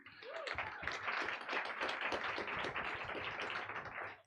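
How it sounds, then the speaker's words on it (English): Continuous applause from an event audience at a Dutch launch of a global health initiative, dense steady clapping filling the room at a constant level throughout, with no speech. "A round of applause, please, for Vania Kibui."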